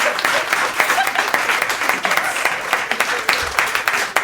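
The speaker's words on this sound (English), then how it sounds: "No, don't clap. Don't clap." Dense audience clapping fills the whole stretch, a steady wash of many hands at a live comedy show, fairly loud and close with scattered voices mixed in.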